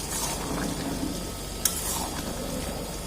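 Peas and potatoes sautéing with spices in a pan for ghugni, a steady soft sizzle running evenly throughout with a single sharp clink partway through.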